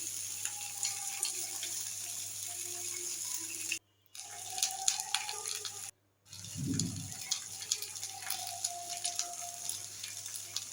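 Fish on a barbecue grill sizzles under a cover, a steady hiss that breaks off for two brief silent gaps before resuming at the same level.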